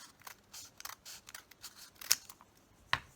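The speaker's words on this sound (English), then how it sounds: "let's try to cut this more straight" Scissors snip through paper while a small junk journal booklet is trimmed, a series of quiet close cuts in an irregular rhythm, with two sharper, louder snips near the end.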